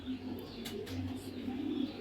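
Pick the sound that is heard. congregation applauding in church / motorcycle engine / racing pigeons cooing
racing pigeons cooing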